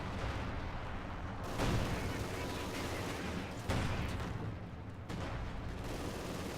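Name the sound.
MG42 and Maxim machine guns firing in Company of Heroes 2 video game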